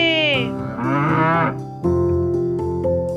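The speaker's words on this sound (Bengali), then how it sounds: "গরু বাছুর" A cow calls with a long, drawn-out moo that falls in pitch, loud and close, then gives way to a steady instrumental music backing.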